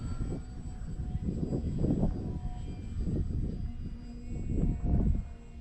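An E-Flite Trojan T-28 RC model airplane with a 1.1 m wingspan flying overhead, its motor droning in a low, distant hum that swells and fades as it passes.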